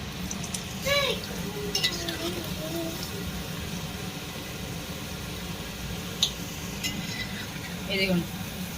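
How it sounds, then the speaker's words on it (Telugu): Veg manchurian balls fry in oil with a steady sizzle, broken by occasional stirring scrapes and light utensil clinks. "ఇదిగో ఇలా గోల్డెన్ బ్రౌన్ వచ్చేంత వరకు ఫ్రై చేసుకోండి."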